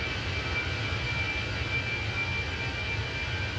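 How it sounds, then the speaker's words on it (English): A steady, loud jet drone from the CFM engine of a Fenix A320 in a flight simulator, heard in flight as an even rumble with a faint high whine throughout and no talking. "Hear the sound coming out of that engine?"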